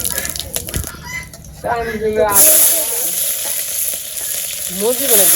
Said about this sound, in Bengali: তেল গরম হয়েছে তেজপাতা দিয়ে দিচ্ছি জিরা দিয়ে দিলাম